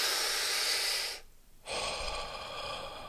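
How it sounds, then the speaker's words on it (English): A person takes a deep breath, a long close hissing inhale followed after a brief pause by a slow audible exhale, alone without talk. "Take a deep breath."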